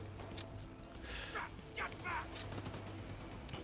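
Sniper rifle fire in The Division 2: several sharp shots ring out amid a busy, noisy game soundscape, with a quick cluster of reports near the end, fairly close.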